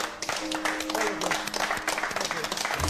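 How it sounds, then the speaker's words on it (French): A group of players applaud themselves with dense steady clapping, with voices speaking and a tonal hum underneath. "je vous invite à vous applaudir parce que vous méritez bien ça"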